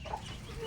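Hens cluck on a small poultry farm where several birds sit brooding on eggs, with a few short, close clucks over a steady low background and no talk.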